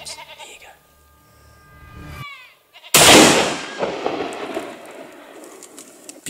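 A loud rifle gunshot rings out during a trophy goat hunt in New Zealand, a sharp blast with a long echoing decay across open country, following quiet murmured voices and goat bleats.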